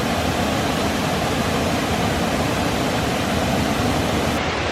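Luxembourg waterfall along the Mullerthal trail, its continuous roaring hiss of falling water filling the scene, loud, even and close, with no talking.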